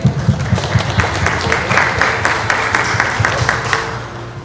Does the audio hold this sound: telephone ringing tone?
no